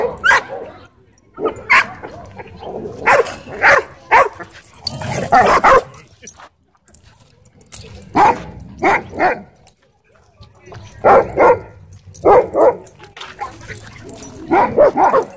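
A wolf dog at a dog park barks in repeated loud bursts and clusters, with whimpers and yips between, while people talk nearby across the whole stretch.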